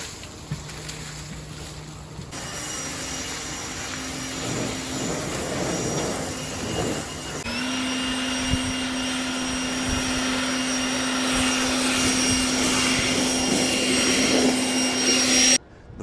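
Leaf blower clearing loosened debris off a house roof, a loud continuous whooshing roar with a whining motor tone that steps up in pitch partway through, then cuts off abruptly near the end.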